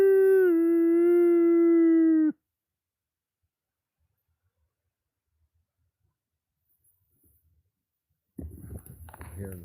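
A person imitates a howl, voicing a loud, steady, wavering tone for about two seconds that cuts off sharply. Near silence follows, then rustling and muffled movement close by.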